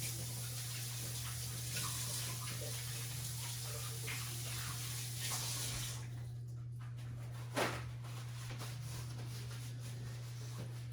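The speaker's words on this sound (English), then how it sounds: "I'm gonna get this one on and wash my hands real quick" Tap water runs steadily at a sink while hands are washed, a soft continuous splash heard from a short distance over a low steady hum, with one brief knock partway through.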